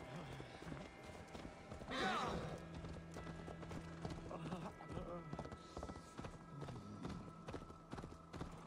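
Horse hooves clip-clop steadily in Assassin's Creed Valhalla, a rhythmic run of close hoofbeats under game speech and background noise, with a brief louder burst partway through.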